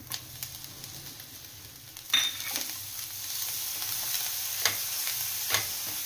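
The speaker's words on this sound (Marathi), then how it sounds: "गॅस खूप फुल करायचं नाही, मीडियम किंवा मंद आचेवर हे परतत राहायचं" Coconut and jaggery filling for karanji or modak is stirred in a pan over medium-low heat. A soft, steady sizzle is broken by occasional sharper scrapes and clinks of the spoon against the pan, with no talking.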